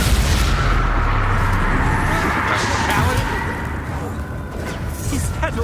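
Confringo and Expulso spell blasts in Hogwarts Legacy, heavy booming explosions and crashing impacts in a dense, continuous barrage, with shouted voices over the combat.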